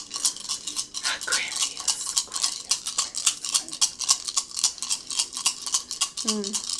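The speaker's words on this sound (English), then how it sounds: "Dice fell out. The elements just fell out of the bowl." Dice tumbling out of a bowl during a tarot reading make a close, rapid run of sharp clicks and rattles that continues for several seconds, ending with a brief tonal sweep.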